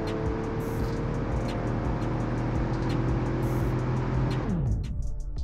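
A car accelerating in the BeamNG.Drive video game gives a loud, steady engine drone with a rising pitch that drops away sharply near the end, with no talk.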